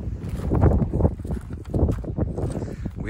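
Farm horses shuffle and step on a winter farm, producing irregular close, muffled hoof thuds and clops in a dense, rumbling stretch with no clear speech.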